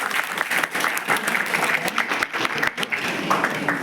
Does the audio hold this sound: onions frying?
no